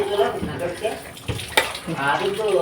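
Cooked drumstick greens and legumes for a sambar are drained, water pouring and splashing steadily from the pot into a sink, close and fairly loud, with someone talking over it.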